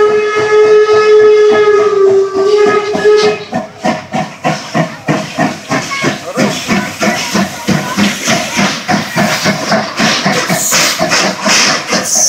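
Steam locomotives, including an Ol-class engine from Olsztyn and a PKT-48, pass at a steam locomotive parade in Wolsztyn, Poland, opening with a long loud whistle, then rhythmic heavy chuffing and hissing steam close by.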